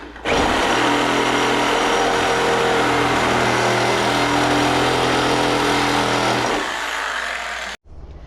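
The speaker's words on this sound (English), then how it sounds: "I'm going to try a Sawzall rather than a grinder just to avoid the sparks." A Sawzall reciprocating saw cuts through GM truck body metal during rocker and cab corner replacement, a loud sustained buzzing rasp for several seconds before winding down and stopping.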